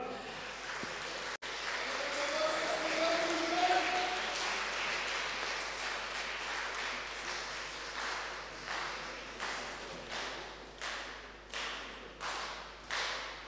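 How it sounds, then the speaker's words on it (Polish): Loud audience applause fills a festival gala hall, a dense wash of clapping that swells, then thins into slower rhythmic claps near the end, with a shout or cheer over it in places. "Teraz gromkie brawa."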